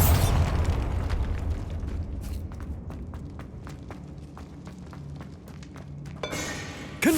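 A Bombarda spell blast in Hogwarts Legacy booms loudly at the start and fades into a rumbling tail, followed by a string of sharp, short pops and a final burst near the end.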